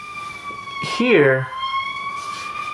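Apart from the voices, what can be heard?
ambulance siren passing by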